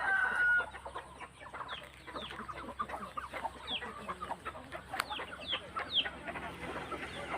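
Chickens cluck in quick, overlapping bursts, with brief higher calls scattered throughout, fairly close and continuous against a quiet background.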